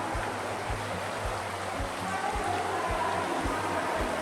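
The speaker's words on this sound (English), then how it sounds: "And this is an underground river" Underground river about 80 meters deep in a cave, a steady broadband rush of flowing water filling the space, with rhythmic low thumps throughout and no talk.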